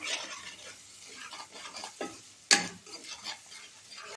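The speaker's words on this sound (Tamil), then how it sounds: "சால்ட் உப்பு வெறும் மிளகாத்தூள் இஞ்சி பூண்டு பேஸ்ட்டு தனியாத்தூள் போட்டு எண்ணெயிலே நல்லா வதக்கிடுவோம்" Spices and ginger garlic paste fry in oil for an egg gravy, producing a soft close sizzle with stirring scrapes and one sharp clack of a utensil against the pan, with no talk.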